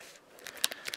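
Packaging on a Pokemon Furious Fists booster box is cut open, heard as a quick cluster of faint crisp snips and crinkles close by.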